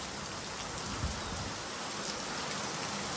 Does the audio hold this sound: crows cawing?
no